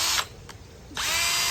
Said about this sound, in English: I have like a lower speed drill.